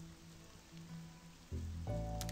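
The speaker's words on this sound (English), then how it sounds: "Ooh, and it started raining" Steady rain hisses in the video game Last Dream: World Unknown, an even wash under tonal background music that swells and grows louder near the end.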